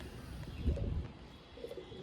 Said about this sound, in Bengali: খুব সুন্দর একটি কাগজি পায়রা নর পায়রা